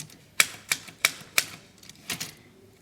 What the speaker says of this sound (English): for showing us the typewriting process